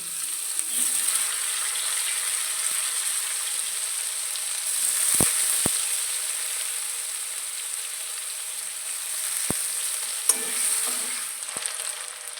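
Onion and tomato frying in oil in a pan, a steady close sizzle running the whole time with a few sharp clicks of a utensil against the pan.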